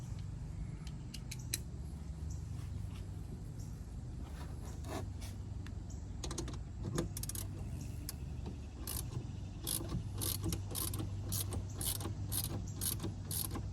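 Ratchet and socket work on the 10 mm battery terminal bolts of a 2017 sixth-generation Camaro 2SS, a steady run of quick metallic clicks and light clinks over a low hum, close and without speech.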